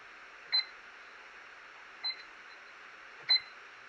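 Timer giving three short, clear electronic beeps spaced over a few seconds, otherwise quiet.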